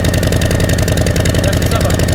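Harley-Davidson motorcycle engine idles close by with a loud, steady, pulsing rumble.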